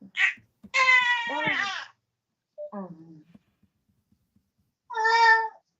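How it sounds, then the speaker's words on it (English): A baby about three months old cries in a few short, high, wavering wails separated by silence, close and clear, with brief quiet gaps between bursts. "your baby is crying"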